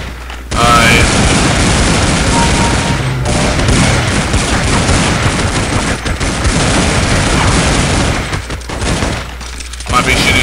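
Dense, continuous gunfire in Counter-Strike 1.6 on a Mario Castle GunGame map, loud, rapid overlapping shots and booms filling the whole stretch with little pause.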